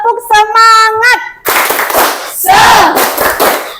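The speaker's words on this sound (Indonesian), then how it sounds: "Tepuk semangat." A school class performs the tepuk semangat ice-breaker: a voice sings a short line, then the children clap and shout together in loud rhythmic bursts.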